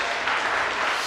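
A church congregation applauds at the close of a sermon by pastor Osvaldo Arias, a steady, dense wash of many clapping hands lasting about a second with no break.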